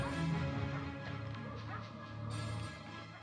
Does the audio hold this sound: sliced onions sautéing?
no